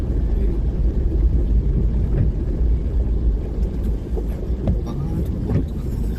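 Busy street traffic with motorbikes squeezing around a stalled car in a jam, a continuous rumble of engines close by with passing revs, while people talk over it.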